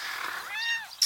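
A cat at a campsite gives one short, close meow with a rising-then-falling tone, followed by a brief bright noise at the end.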